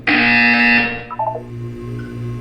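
A loud, harsh electronic buzzer sounds in the video game Portal 2, holding a steady tone for about a second before cutting off, followed by faint tonal blips and a low hum.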